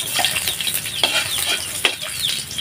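Sliced ginger sizzles in hot cooking oil in a pan, the start of a sauté for ginataang kuhol (snails in coconut milk), a steady crackling hiss broken by sharp spatters and stirring, close and fairly loud, no talk.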